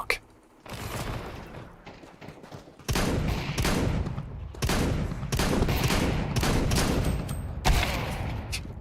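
Gunfire in the video game Counter-Strike rips out in several sustained loud bursts, each starting abruptly after a short lull, rattling and dense with a metallic mechanical edge.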